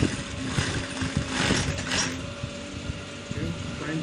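A sewing machine stitches the waistband of a pair of trousers, its needle clattering in quick mechanical bursts that rise and fall over a few seconds, close and moderately loud.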